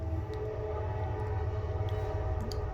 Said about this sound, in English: You can hear the train too.